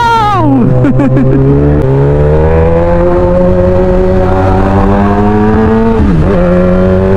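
A super sports motorcycle revs hard and accelerates on a ride near Baler, its loud engine note climbing in pitch through several gear changes, then dipping and rising again. It runs alone and very close.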